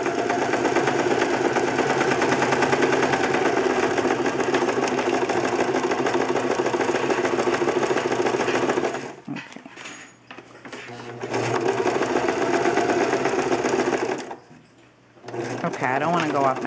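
A sewing machine stitches fabric for a lined zipper bag in a steady, loud mechanical whir, stopping twice briefly as the needle is left in the fabric and the work is turned, then resuming; someone talks quietly at points.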